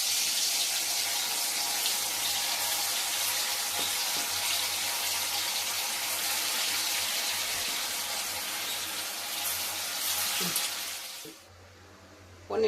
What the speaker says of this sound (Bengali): এবার তেলে ভেজে নেব।